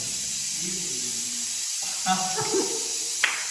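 Tempering (tadka) sizzling in a clay pot gives a steady, dense hiss throughout, with brief faint voices and soft clatter partway through.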